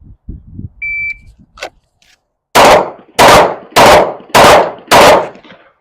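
Five sharp, loud pistol shots from a Glock 19X fired at a target on a range, evenly spaced about half a second apart, preceded by a brief electronic timer beep and some small handling noises.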